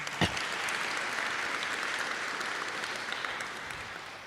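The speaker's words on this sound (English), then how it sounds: "she deserves another round of applause" Steady, dense applause from a crowd, sustained for several seconds with a sharp clap near the start, gradually thinning slightly toward the end.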